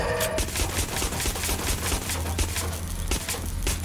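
Sustained gunfire from a firefight in Watch Dogs Legion, a dense, continuous rattle of shots layered with low rumbling game noise, loud and steady throughout with no voices.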